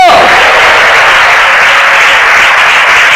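A congregation at a Christian worship service claps hands in praise, a loud, dense and steady wash of applause that fills the whole stretch without letting up.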